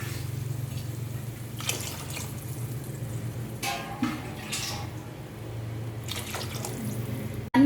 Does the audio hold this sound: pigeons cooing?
no